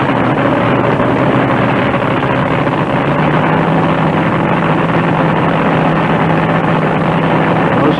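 Loud, continuous roar of nitromethane-fueled drag racers launching down the quarter mile at the 1974 NHRA US Nationals, a dense steady engine blast holding for the whole stretch with no talk.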